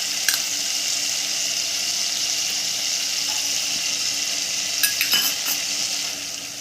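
Tomato paste and spices frying in a pan, a steady loud hiss filling the whole stretch, with occasional spoon clinks and scrapes as it is stirred; no one speaks.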